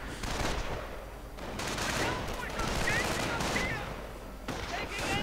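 Grenadier squads open fire in a strategy video game: a continuous rattle of small-arms gunfire and overlapping bursts, loud and sustained throughout with brief dips.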